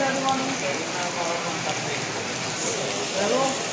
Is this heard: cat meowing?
no